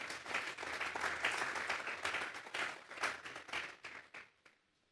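A church congregation claps for the Lord during a sermon, a lively burst of many hands with distinct sharp claps, holding strong for several seconds before trailing off into silence.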